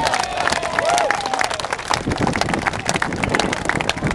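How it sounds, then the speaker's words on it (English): Crowd applause and scattered cheering break out for the Blackpool team at an RNLI lifeboat open day, a lively burst of clapping with wind buffeting and a whistle-like tone early on. "give them a round of applause"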